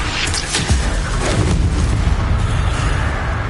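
Incendio fire spell cast in the Hogwarts Legacy video game: a loud, booming fiery burst erupts up front, then a dense roaring rumble fills the rest of the moment.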